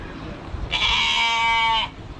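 A single loud, drawn-out bleat from a nursing goat sounds close by at a petting area in Santa's Village amusement park, Dundee, Illinois, wavering for about a second over faint background noise.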